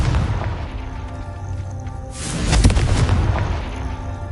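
Confringo spell blasts in Hogwarts Legacy erupt as a deep booming burst around the midpoint, rising out of a rumbling background of game noise and ringing off for a second or two.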